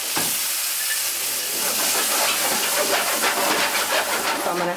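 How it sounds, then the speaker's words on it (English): Steady sizzling hiss of seasoned chicken wings sauteing in a hot frying pan, loud and continuous with faint crackles throughout, no talking. "I'm just going to bring my seasoning and saute them in my frying pan just a bit."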